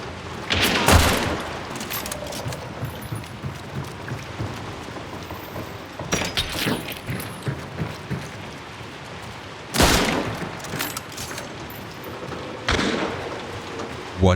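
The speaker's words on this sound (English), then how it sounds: "We are shooting at each other, the enemy shows himself quite often, and I even managed to hit him twice" Gunfire traded in the video game Hunt: Showdown, with loud sharp shot bursts near 1, 6, 10 and 13 seconds over a steady rain-like ambient wash, with speech mixed in.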